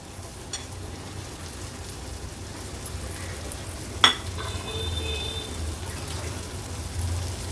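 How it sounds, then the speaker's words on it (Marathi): Finely chopped French beans cooking in a pan for a Maharashtrian vegetable dish, a steady soft sizzle with a faint clink partway through. "आता ही फरसबी अशी बारीक मी चिरून घेतली आहे, ती ऍड करूया।"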